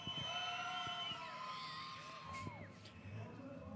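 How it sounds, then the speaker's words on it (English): Crowd of supporters at a race event whooping and cheering from a distance, faint yells rising over a steady murmur, with a voice speaking nearby. "by the sound of it, there's a fair few Club Mang Nation supporters up in the crowd"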